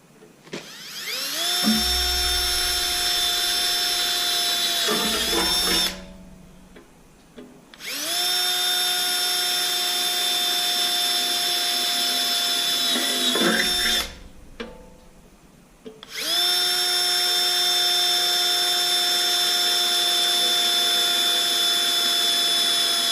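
Power drill running with brand new drill bits while fitting a battery isolator to a horsebox, with three long, loud, steady whining runs separated by brief pauses and clicks, close by.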